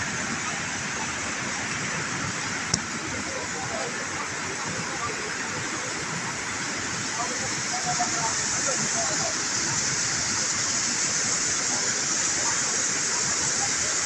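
Flood water rushes down a mountain stream after a cloudburst in Sikkim, a steady broad roar like a waterfall that holds constant and fairly distant from start to end.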